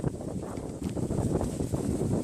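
Gusty wind buffets the microphone with low rumbling rushes and flutter, continuous and fairly loud throughout.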